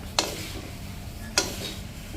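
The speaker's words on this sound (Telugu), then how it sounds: "ఇప్పుడు మనము దీన్ని మిక్స్ చేసుకోవాలి స్లోగా మిక్స్ చేసుకోవాలన్నమాట" Poha (flattened rice) mixture stirred slowly in a pan, two brief scraping clinks about a second apart over a faint steady sizzle.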